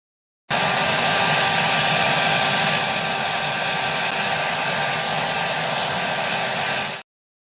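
A helicopter's engine and rotors roar loud and steady for about six and a half seconds, a dense broad whine with no pauses and no talk, cutting in and out abruptly.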